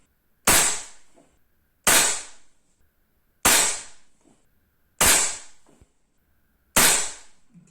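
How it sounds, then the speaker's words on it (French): A Black Ops Soul Langley air pistol fitted with a silencer, firing RWS Meisterkugeln pellets at a 10 m target, gives five sharp, evenly spaced shots, each a crisp crack with a short metallic decay, close and with no talk. "Toujours en version tirée comme un pistolet avec le silenceur."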